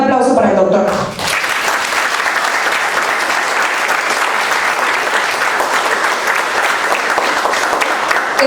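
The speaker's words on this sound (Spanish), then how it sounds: "Un aplauso para el doctor." Audience at a book presentation breaking into loud, sustained applause right after a brief introduction, a dense, even roar of clapping that carries on for several seconds.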